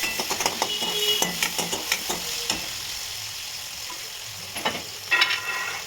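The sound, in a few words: tomato frying in oil with cumin and mustard seeds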